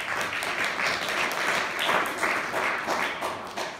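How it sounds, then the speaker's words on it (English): Sustained applause from a civic audience at a town's annual state-of-the-town address, steady dense clapping at an even level throughout with no talk. "Give them a round of applause."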